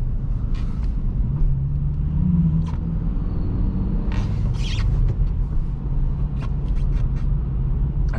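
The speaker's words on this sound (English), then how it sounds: "I knew I was bound to hit a traffic jam at some point." A 2023 Acura Integra sits in a New York traffic jam amid a steady low road rumble, with scattered creaks and brief hisses of nearby heavy vehicles and no talking.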